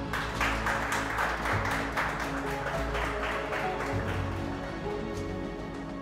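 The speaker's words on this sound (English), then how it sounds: "Give them a clap." An audience claps for the top performers at a TV presenter search, a dense patter of hands lasting several seconds and fading slightly at the end.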